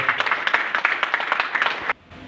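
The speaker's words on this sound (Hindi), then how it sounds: "जोरदार ताली बजाए इनको भी" A room full of people at a business and entrepreneurship event in Udaipur breaks into lively, close applause with sharp claps throughout, then stops abruptly, leaving only quiet room noise.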